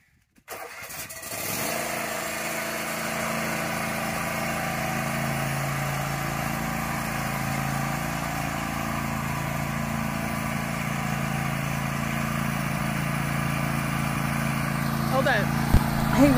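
A riding lawn mower's small engine cranks and catches, then runs at a steady, loud rumble for a long stretch, close by, with a brief rattle near the end.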